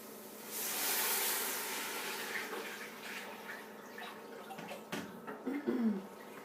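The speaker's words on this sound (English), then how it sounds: "we're going to be adding the water" Water runs and splashes steadily for several seconds into a pot of cooked garlic for split pea soup, a broad hissing pour that thins out, followed by a few soft bubbling sounds near the end.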